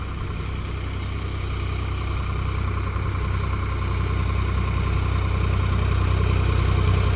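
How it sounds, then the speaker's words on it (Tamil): Swaraj 855 FE tractor engine working under load while pulling a 5-tine cultivator in a field, a loud, steady low drone with a constant hum that builds slightly, with no voices. "உங்களுக்கு இன்ஜின் சவுண்டு கேட்டாவே தெரியும் எவ்வளோ லோடு வாங்குது."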